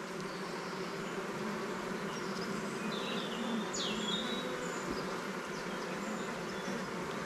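An exploding honeybee swarm buzzes densely and continuously, a thick steady drone of many bees close by, with occasional individual bees whining past.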